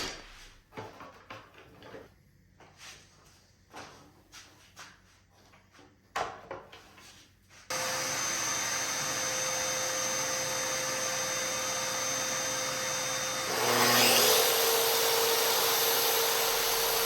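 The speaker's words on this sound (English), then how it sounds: "to make this cut, because I don't have a miter saw on this shop, I used my track saw again" Small wooden handling knocks and clicks come first, then a track saw working a shelf board for a bathroom roars up abruptly into a steady, loud motor whine that swells louder near the end as the blade bites.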